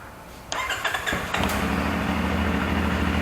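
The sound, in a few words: KTM-style 450 NK motorcycle engine starting and idling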